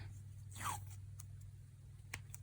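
Masking tape being pulled off a roll in an art studio, one short quick ripping rasp under a steady low electrical hum, followed by faint ticks.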